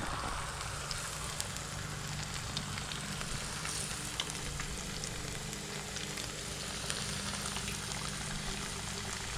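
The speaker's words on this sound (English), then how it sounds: "I'll stick it in there and give it a little sizzle" Bluegill and crappie fillets fry in hot grease with a steady, dense crackling sizzle, continuous and close, with occasional sharper pops throughout.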